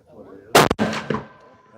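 A single sharp, loud Tikka rifle shot cracks close by, fired at a range while checking velocity, with a brief echo trailing off afterward.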